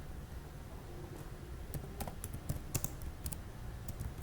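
Quiet keyboard typing, a run of light, irregular keystroke clicks that quicken and cluster toward the middle, close by at low volume over faint room noise.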